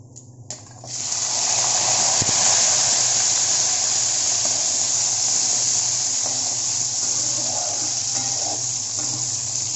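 About a dozen small shallots and three green chillies sizzle in hot oil over high heat. After a brief quiet moment the sound swells into a loud, steady, close-up hiss that carries on with no talking.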